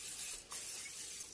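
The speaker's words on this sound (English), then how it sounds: "Now I'm going to spray some butter flavor spray, non-stick spray" Butter-flavor non-stick cooking spray sprayed from a can onto a waffle iron: a short, faint, steady hiss lasting about a second with a brief break.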